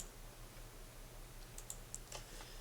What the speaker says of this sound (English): Okay, I'm going to click apply.